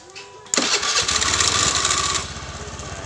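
A motorcycle engine cranks and fires up after its regulator is swapped for a new one, a sharp start followed by a fast, close, rhythmic putter that settles into a steady idle.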